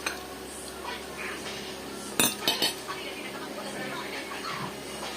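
Cutlery and dishes clink at a meal of fried fish, with a burst of sharp clatters in the middle over a quiet room and faint voices nearby.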